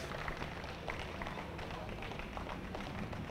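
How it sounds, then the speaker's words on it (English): Faint, steady applause and clapping from an audience at a motorcycle builder competition, continuous through the moment with a hum of crowd noise. "Big round of applause for our first place winner, AFT Custom Motorcycles."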